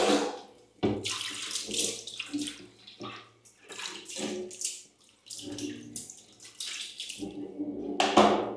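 Water is poured from a bowl into a fish tank in uneven splashing bursts with short pauses between pours, close and fairly loud.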